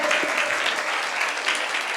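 A church congregation at a fasting revival meeting claps loudly together, a dense, continuous burst of applause filling the hall, close and steady for its whole length.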